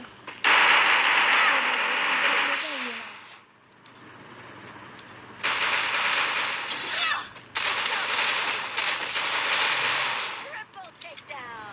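Automatic gunfire in the Counter-Strike video game comes in long, loud, dense bursts, separated by short quieter gaps, with clicks and weapon handling sounds between the bursts.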